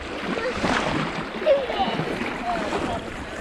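A person is dragged through river water during a river treasure and antique bottle hunt, making steady sloshing and splashing that swells and fades, with faint voices and giggling in the background.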